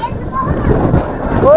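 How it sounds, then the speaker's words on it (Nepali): Strong wind gusts across the hilltop at Swayambhu in Kathmandu, a continuous low roar buffeting close to the microphone throughout, with voices talking over it. "ओहो कस्तो हावा चल्यो यार"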